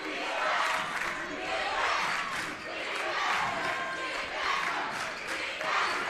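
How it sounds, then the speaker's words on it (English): The Hazen home crowd roars during a Vermont Division 3 high school basketball semifinal against Winooski, a loud, continuous wall of cheering and yelling in a gym that pulses in waves, with a commentator's voice partly beneath it. "That Hazen crowd is already fired up."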